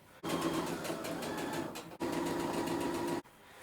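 A sewing machine stitches handbag fabric pieces in steady whirring bursts, close and loud, with two short breaks between runs.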